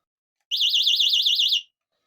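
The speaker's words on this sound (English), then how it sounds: "you can get these alarm door wedges now. I'm going to set this off, so just be prepared" A door wedge alarm sounds indoors: a single shrill, warbling electronic siren that starts abruptly, holds for about a second, then cuts off into silence.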